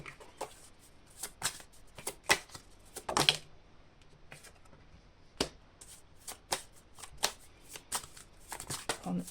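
Tarot cards shuffled by hand in a series of crisp, papery riffles and slaps, close and fairly quiet, with short pauses between bursts and a louder flurry partway through.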